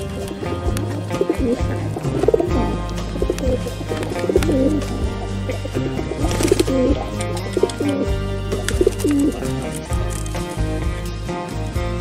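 Young pigeons cooing in a loft, a steady stream of soft, close coos and murmurs layered over one another, with a constant low hum underneath.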